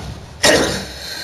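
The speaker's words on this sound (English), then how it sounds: "Sorry for the coughing." A single sharp cough bursts out abruptly and close to the mic during Fortnite gameplay, then trails off over a faint steady background hum.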